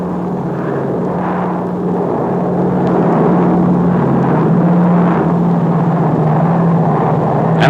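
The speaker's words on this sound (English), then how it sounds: "The pilot flies directly over the smoke signal marking the end of the run." A C-47 transport plane laying wire in flight, a loud, steady propeller-engine drone with a low hum that swells slightly midway and holds on, heard alone with no voices.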